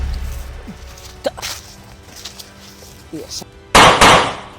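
A single sharp, loud gunshot bursts out near the end of a tense outdoor scene, following scattered smaller cracks and thumps, with voices speaking beforehand.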